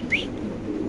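A fancy pigeon at a large fancy-pigeon farm in Dhaka gives a short, close call amid the low murmur of other birds in the loft.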